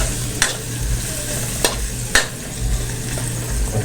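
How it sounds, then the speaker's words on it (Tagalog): Garlic sautéing in a hot pan, a loud continuous sizzle with three sharp scraping strokes of a utensil stirring it, close up. "Halo-halo lang para din masunog yung bawang"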